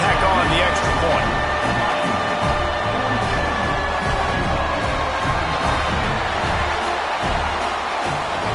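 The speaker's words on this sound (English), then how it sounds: "this crowd is buzzing after that" Stadium crowd noise from the College Football 25 video game, a steady dense roar of fans buzzing after an extra point, with faint tones and broadcast-style speech layered over the continuous din.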